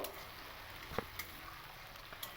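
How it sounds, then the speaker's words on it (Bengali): A paste of ginger, green chili and coriander-cumin fries in a pan for palak paneer, giving a quiet, low sizzle with a few sharp clicks of stirring. "সেই আদা, কাঁচা লঙ্কা আর ধনে জিরে পেস্ট দেওয়ার পরে এই মশলাগুলোকে আমি খুব ভালো করে একটু কষিয়ে নেব।"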